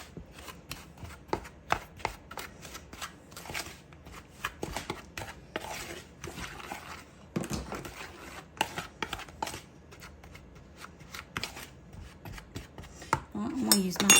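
Brown sugar, flour, cinnamon, ginger and nutmeg are stirred in a bowl, giving irregular scraping and clinking strokes of a utensil against the bowl, close and fairly quiet.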